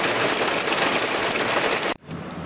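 Dense rain hisses steadily at a campsite during a small cold rainstorm, a loud close wash of drops on surfaces that cuts off abruptly near the end, leaving a quieter background.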